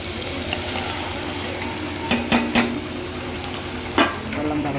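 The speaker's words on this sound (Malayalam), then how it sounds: "നമുക്ക് പച്ചമുളകും കൂടെ ഇതിനകത്ത് ഫ്രൈ ചെയ്ത്" Green chillies fry in a pan for upma, giving a steady close sizzle broken by a few sharp scraping clicks of stirring, with no talking.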